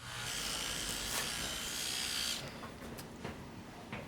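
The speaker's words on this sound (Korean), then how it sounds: "욕실에서 들려오는 드라이기 소리가 유독 거슬리는 듯하죠" A steady high whirring hair dryer hums throughout in a bathroom, loud at first then dropping slightly in level midway, with a few faint knocks near the end.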